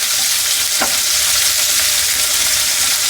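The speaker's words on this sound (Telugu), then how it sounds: "ఇదే టైంలో ఆనియన్ స్టెప్ బై స్టెప్ అన్నీ వేసుకోవాలి, ఎందుకంటే వేగిపోతూనే ఉంటాయి మనకి." Onions frying in a pan for jeera rice made with ration rice: a loud, steady, dense sizzle fills the whole stretch, with one brief stirring scrape near the start, close up and without speech.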